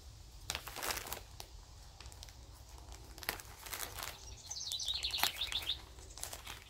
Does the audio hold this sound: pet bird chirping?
yes